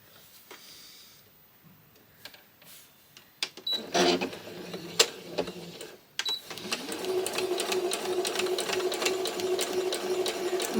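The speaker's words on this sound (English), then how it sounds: "I'm just going to sew this onto a bit of scrap just to make that bit longer" A sewing machine stitching onto a fabric scrap starts with a few short, loud bursts and clicks, then settles into a steady, continuous whirring run up close.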